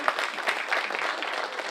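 Applause at a county board of supervisors meeting honoring county fire and public works staff, a steady wash of many hands clapping in a room, moderately loud and continuous without talk.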